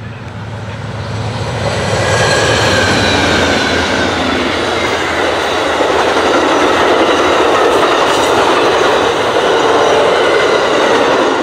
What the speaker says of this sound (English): I hope you all enjoy this nice view of the pole as Amtrak 98 rolls toward us up track number 2.